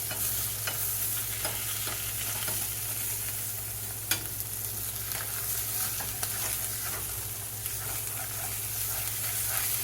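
A spatula stirs and scrapes food around a hot pan, with steady frying sizzle underneath and occasional sharper clinks against the pan over about ten seconds, no talking.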